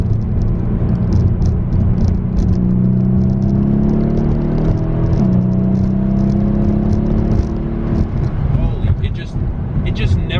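A Mercedes E63S AMG accelerates in third gear, its engine note rising in steady, climbing tones under ongoing conversation, with road and cabin rumble beneath, then easing off near the end.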